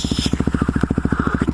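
A Husqvarna supermoto motorcycle runs close by with a loud, rapid, evenly pulsing engine thump that holds steady throughout.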